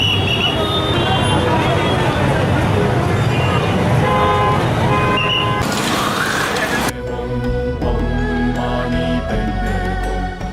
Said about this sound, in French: Ça avance pas, ça klaxonne.